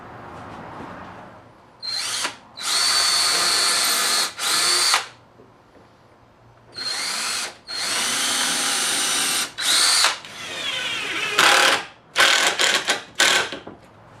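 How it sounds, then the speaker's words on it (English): A power drill drives number 8 two-inch screws into the corners of a wooden Murphy bed frame in loud whirring bursts of one to two seconds, separated by short pauses. "Now for our corners, we're going to use number 8 2-inch screws, and we're going to put 2 screws in each of the 4 corners."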